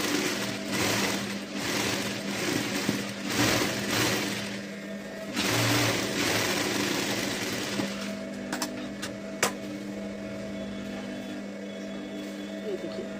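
A sewing machine runs stitches on a blouse, a steady mechanical whir with light rhythmic ticking beneath it, continuing throughout while someone talks over it.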